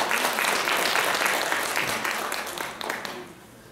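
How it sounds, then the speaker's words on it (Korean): An audience at a Korean panel discussion on barrier-free travel applauds to welcome the session moderator, a warm burst of clapping from many hands that stays strong and then tapers off gradually. "박수로 맞아주시기 바랍니다."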